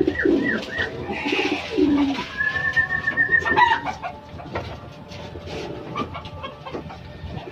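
Racing pigeons arrive at a loft, cooing and calling close by, with wingbeats and scattered bird sounds throughout and no talk.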